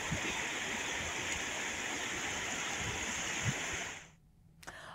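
A flooded river in heavy monsoon rain rushes with a loud, steady roar of turbulent water for about four seconds, then cuts abruptly to near silence.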